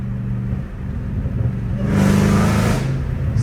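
A supercharged Hellcat Redeye revs from a low idle rumble into a louder surge of acceleration with a rising whine midway, heard close from inside the car, then eases back.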